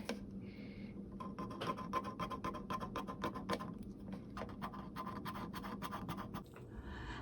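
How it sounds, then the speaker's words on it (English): A paintbrush loaded with paint applying a second coat to a dresser, a quiet run of close, rhythmic scratchy brush strokes with short pauses between them. "I'm putting on the second coat of paint, and what I'm doing today is really loading up my brush and applying it to the piece"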